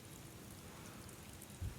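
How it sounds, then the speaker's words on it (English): Rain falls steadily across a dusty schoolyard, a soft even patter with a faint low thump near the end, distant and without voices. "Rain darkened the dusty schoolyard."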